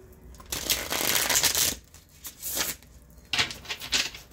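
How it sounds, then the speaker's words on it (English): Several bursts of crisp card riffling, a long run of rapid shuffling followed by two shorter, quieter shuffles, close up with no talking. "Let me shuffle real quick."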